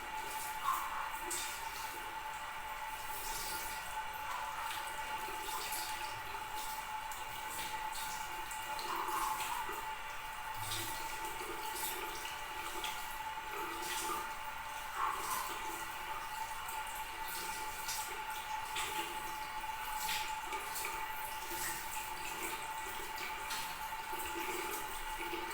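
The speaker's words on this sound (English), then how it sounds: "And then rinse your arms and the hands." Water runs steadily from a tap while arms and hands are rinsed during a medical handwashing routine, a continuous splashing hiss with soft drips and no talking.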